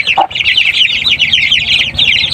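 An Aseel hen gives low clucks among her growing chicks, whose constant high, overlapping peeping dominates close up in a backyard coop.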